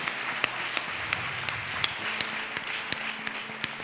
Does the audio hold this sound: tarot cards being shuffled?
no